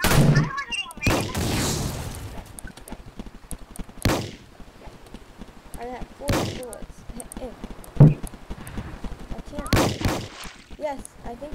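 Enemy ship firing on players in a Roblox pirate ship game, several separate sharp cannon-like gunshot bursts spaced a couple of seconds apart, with people talking between and over the shots.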